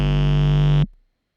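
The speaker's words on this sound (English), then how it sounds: "That sine wave then goes into a distortion pedal, which really just squares it." A sine wave pushed through a distortion pedal into a squared, buzzy tone, one loud sustained note holding steady before cutting off abruptly into silence.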